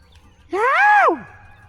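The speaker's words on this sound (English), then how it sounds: "Moving cattle." One long, rising-then-falling bellow from a Mashona cross cow, loud and fairly close, standing out alone over a quiet background.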